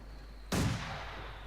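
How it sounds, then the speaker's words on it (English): A single sharp mortar blast goes off in the Company of Heroes 2 strategy game, a sudden loud boom that rolls into a fading rumble after a quiet start. "At least he's making use of the mortar, reasonably so."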